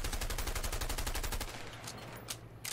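Rapid machine-gun fire rattles steadily in A Way Out, a fast even burst that cuts off midway, followed by a couple of faint distant shots; no talking.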